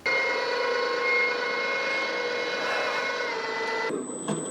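A cheap gas snowblower converted to electric motor power spools up with a steady, loud, high-pitched electric whine carrying stacked tones, running continuously and then shifting pitch near the end.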